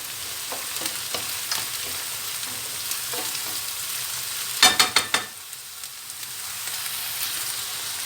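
Onions fry in a pan with a steady, moderate sizzle, punctuated by a brief cluster of sharp clicks and scrapes midway, close up with no voices.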